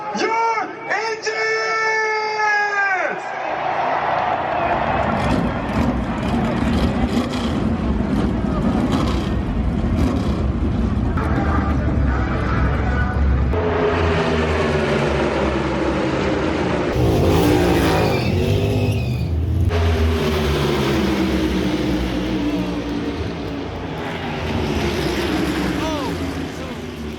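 Many race car engines at the Daytona 500 fire up and rev together into a sustained, rising roar, with crowd noise and voices over a public address system mixed in throughout.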